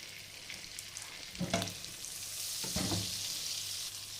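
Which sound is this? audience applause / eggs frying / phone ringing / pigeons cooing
eggs frying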